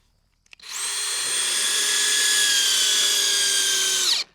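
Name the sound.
driving screws into timber frame post bases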